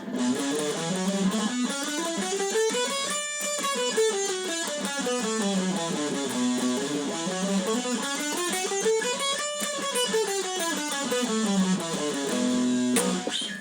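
A guitar plays the Aeolian minor scale up and down twice, single notes in steady succession, clear and close with no talking.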